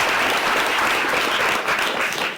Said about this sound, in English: let's please join me in offering a round of applause.